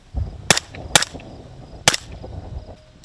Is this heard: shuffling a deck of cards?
no